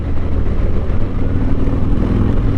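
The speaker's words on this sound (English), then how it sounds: "you can't beat the sound of a Harley Davidson as far as the exhaust goes" A Harley Davidson motorcycle exhaust rumbles steadily and loudly at a demo days event in Beaumont, Texas, a deep continuous engine drone with no talk over it.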